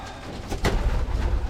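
Young pigeons coo softly nearby, low murmuring calls over a faint rustling background.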